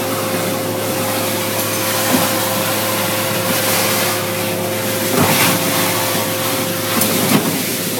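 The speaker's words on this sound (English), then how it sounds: "They sucked it up with the machine and made it cavitate." A suction machine vacuums sand out of a sand trap beneath collapsed shale rock, giving a steady, loud roaring hiss with a constant hum. A few brief knocks and surges break through the roar.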